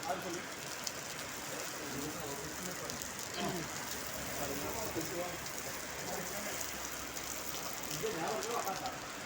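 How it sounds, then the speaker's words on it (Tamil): Heavy rain in Dubai falls in a continuous, close hiss and patter on surfaces, holding steady throughout while someone talks over it. "மழை சரியான மழை"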